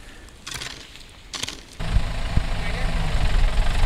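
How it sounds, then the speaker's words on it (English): Tractor engine on a farm in Thailand, a low rumbling idle that starts partway in and holds steady and fairly close, with people talking over it before it begins. "So here's the tractor now,"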